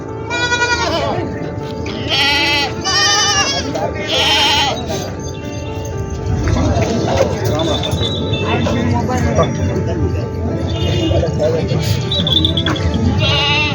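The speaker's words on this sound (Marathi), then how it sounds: "पाहू शकता मित्रांनो शेळ्या" Goats bleat several times close by at a goat market in Purna, Parbhani, over a busy background of people talking and occasional clinking.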